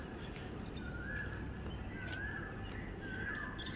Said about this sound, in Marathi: कुठेतरी छान अशी कोकिलताई गात आहे